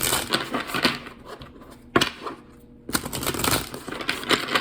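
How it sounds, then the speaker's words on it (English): A deck of tarot cards being shuffled by hand, with repeated close, crisp bursts of riffling and slapping card noise separated by brief pauses and no talking. "it was really hard just now for me to shuffle the cards too"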